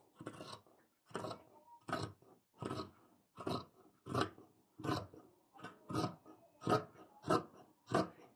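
Scissors cut through skirt fabric on a table, with about a dozen crisp, evenly spaced snips in a steady rhythm, close and fairly quiet, and no voices.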